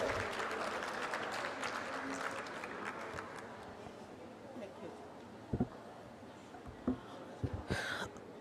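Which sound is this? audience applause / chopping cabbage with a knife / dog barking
audience applause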